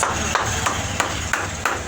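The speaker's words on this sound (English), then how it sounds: "you use this shoemaker plier to hammer it and soften the part" A shoemaker's plier is used as a hammer on the thick leather edge of a half shoe, giving six evenly spaced, sharp taps about a third of a second apart, close and clear.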